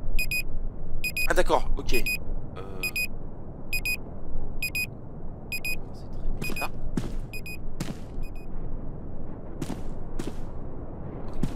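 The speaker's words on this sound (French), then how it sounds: "On a été réveillé par une alarme" In the video game Into The Haze, an electronic alarm clock beeps in repeated short bursts at a steady rhythm over low ambient rumble, while a person speaks briefly in French.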